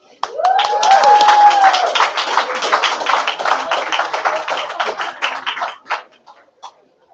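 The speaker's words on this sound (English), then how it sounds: "We can hear clapping next door." Hands clapping steadily in a nearby room during an awards ceremony, a dense run of claps that lasts several seconds and then thins to a few scattered final claps, with a brief rising whistle near the start.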